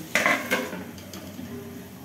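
A metal lid is set onto a pan of aloo posto, giving a couple of sharp clanks followed by softer metallic knocks and a faint sizzle in a quiet kitchen.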